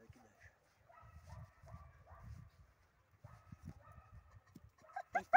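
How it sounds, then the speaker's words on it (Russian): Dog during fetch training, giving soft whimpers and low sounds at first, then a burst of sharp, loud barks close by at the end. "То есть пускается собака не сразу, а вот она немножко возбудиться должна."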